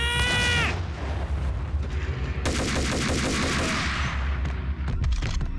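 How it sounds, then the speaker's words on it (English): Grenade blasts and gunfire tear through a building interior in the video game Max Payne 1, a dense run of loud booms and rapid crackling shots that carries on steadily for several seconds. "Why would you throw grenades in a building you're in?"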